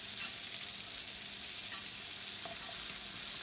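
Onions frying in a pan over medium-high heat for a patty melt, a steady bright sizzle with faint crackles, close and even, with no talking.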